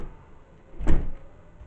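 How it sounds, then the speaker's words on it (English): A cabin door in Sevierville, Tennessee closes with one short, firm bump near the middle of a quiet indoor moment, heard close with faint room noise around it. "Lock the door."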